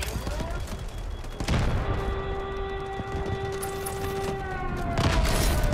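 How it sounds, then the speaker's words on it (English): Artillery barrage in the Delta Force video game: repeated distant booming impacts roll on under a steady rumble, with tonal radio-like game sounds layered over the battle noise and a heavier burst near the end. "Artillery cover coming."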